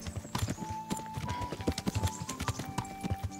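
Horse hooves clip-clopping at a steady walking pace in the medieval game Kingdom Come: Deliverance, close and distinct, with faint game ambience and music beneath the rhythmic hoofbeats.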